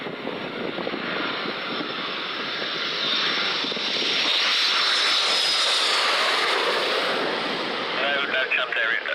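Aircraft engine passing overhead, a broad roar that swells toward the middle and holds loud before easing slightly, no talk.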